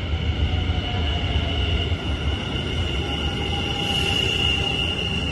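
A Dutch SNG Sprinter electric train pulls into a station, with a steady close rumble of wheels and a sustained high whine from the motors running throughout, and no talking.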